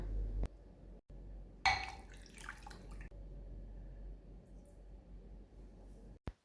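Water splashes and pours in a short burst into a small blender holding lentils, with a low steady hum underneath and a brief clatter near the end.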